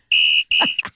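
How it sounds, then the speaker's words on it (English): A whistle is blown in two long shrill blasts and a short third chirp, loud and close with brief gaps between them. "I'm putting the whistle to good use."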